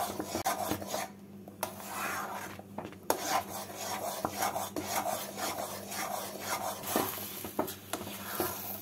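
A thick, boiling khoya mixture for chandrakanti pitha stirred nonstop in a pan, heard as rhythmic scraping and rasping strokes of a spoon against the pan, close up over a low bubbling background.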